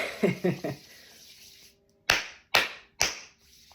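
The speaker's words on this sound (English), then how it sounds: "we're gonna do 3 loud claps" After a few softer taps and faint sounds, three loud, close hand claps land in quick even succession, each sharp and ringing briefly in the room.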